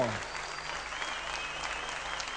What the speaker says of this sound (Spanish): Bien fuerte que se escuche el aplauso.